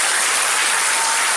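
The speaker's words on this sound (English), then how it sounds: "Big round of applause for Andrew Benson." Loud, dense audience applause fills the room without a break, a continuous wash of clapping from a large crowd with no speech over it.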